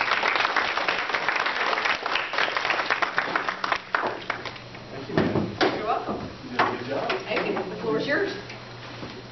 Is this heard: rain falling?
no